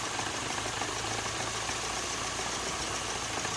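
A carbureted car running on LPG idles steadily after its idle screw is adjusted in cold weather, a near, continuous low engine hum with a faint knocking texture and no talk.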